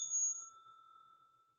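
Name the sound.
bell rung as a trade alert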